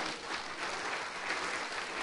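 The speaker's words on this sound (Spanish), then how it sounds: "¿Puedes darle otro aplauso de alabanza a Él?" A church congregation applauds in praise during a Spanish-language Easter resurrection sermon, a steady, dense wash of many hands clapping at a moderate, fairly distant level with no voices on top.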